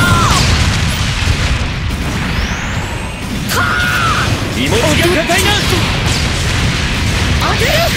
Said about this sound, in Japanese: あんな爆発で生き延びられるわけない。